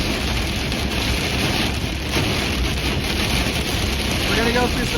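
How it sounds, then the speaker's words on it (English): Heavy rain and gusting wind during a storm near Elk Point, recorded from a moving vehicle: a dense, continuous wash of rain and wind noise with steady road rumble underneath, loud and unbroken throughout. "We're going to go through some heavier rain here for about 2 minutes. And some heavier wind."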